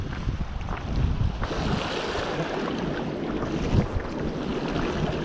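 Steady wind buffets the microphone at a shoreline fishing spot, a constant broadband rush with slight gusting swells and no speech.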